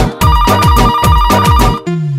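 A phone ringtone plays loud and close, a bright, repeating melodic pattern that cycles several times before cutting off into a sustained tone.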